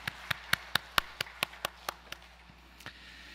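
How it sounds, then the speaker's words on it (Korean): Congregation in a church clapping during a Sunday worship service, about a dozen sharp, separate claps in a steady rhythm that thins out and stops, fairly faint and distant with no talking. "영광의 박수 올려드리겠습니다."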